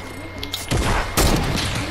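Gunfire in Fortnite, two loud bursts of shots crashing in close together over a short stretch, with no talk during them.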